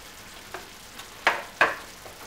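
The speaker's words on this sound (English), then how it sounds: "I will add garlic." Garlic hits a frying pan, giving faint soft crackles broken by two sharper bursts of sizzle close together, then quieting down; no voices.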